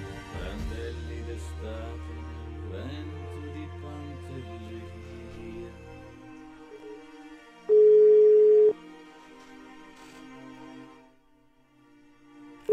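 A telephone ringback tone on an outgoing call during a live broadcast: a single steady electronic tone rings out clearly once over a low background hum and faint music.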